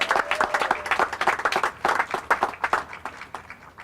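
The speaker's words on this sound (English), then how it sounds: "let's give them a round of applause" Audience applause for students at a university teaching award presentation, dense and steady clapping from a sizeable crowd throughout, fairly close and loud with no talk over it.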